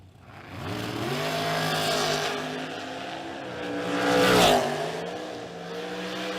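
Race cars roar around a dirt oval at a spring King of the Creek event, engines droning loud and steady with rising and falling pitch as they pass, swelling to a peak near the end.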